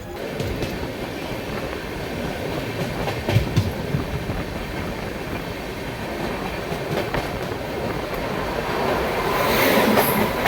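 Mau Express train 15026 rolls at slow speed through Ayodhya Dham Junction, a steady rumble of wheels on rails with clickety-clack and occasional squeals, swelling louder toward the end, with no voices.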